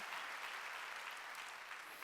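Church congregation at a Sunday worship service breaking into steady, dense applause, a continuous wash of many hands clapping at moderate distance with no voices standing out.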